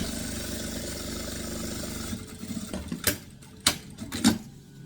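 Sewing machine stitching a second seam along a zipper on a fabric diaper and wipes pouch, a steady mechanical whir running for about two seconds, then quieter handling with several sharp clicks and knocks.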